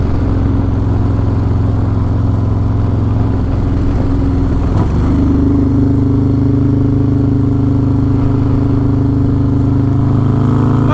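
A Harley-Davidson Road Glide with a 135 engine cruising on a West Coast road, a steady loud low engine drone with a gear-shift dip midway, then a higher held pitch, wind rushing throughout.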